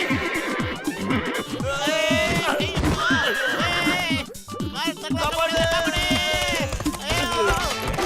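A cartoon horse from a Motu Patlu episode whinnies and neighs in loud, wavering cries over a busy, dense backing of other sounds, with clopping-like beats throughout.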